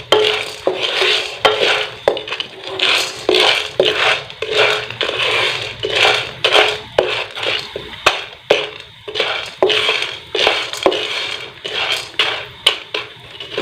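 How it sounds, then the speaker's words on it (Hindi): Popcorn kernels stirred in a hot pan make steady, rhythmic scraping and clattering strokes against the metal, continuous and close for the whole stretch. "तो इसको अच्छी तरह मिक्स कर लेंगे जब तक ये बनने स्टार्ट हो जाएंगे"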